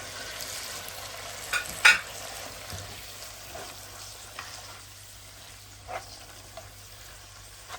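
Tuna sizzles gently in a frying pan as it is stirred, a soft, steady frying hiss with a few sharper scrapes and clinks of the utensil against the pan, fairly quiet and close.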